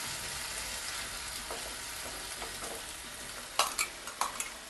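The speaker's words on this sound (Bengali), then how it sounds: "এবার এই মশলাটা ভালো করে কষিয়ে নেব, যতক্ষণ না আদা পেঁয়াজ রসুনের কাঁচা গন্ধটা যায় ততক্ষণ একটু কষাবো।" Ginger, onion and garlic spice paste sautéing in oil, a constant low sizzle with a few sharp clinks of a spoon against the pan toward the end, no voices.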